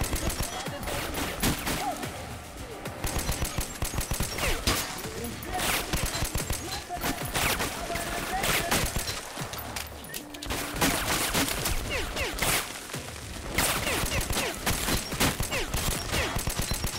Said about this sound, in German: Ah, Beschuss von zwei Seiten,